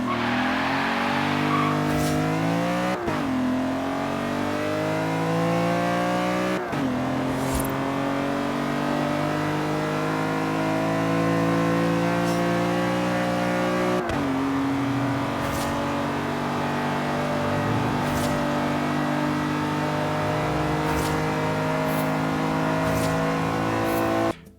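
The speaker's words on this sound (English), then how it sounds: "let's listen to the stock exhaust this car makes from the cabin" Inside the cabin of a BMW with the S54 engine and stock exhaust, the engine revs up smoothly through several gears, each rising pull broken by a brief dip at the shift, loud and continuous with no talking.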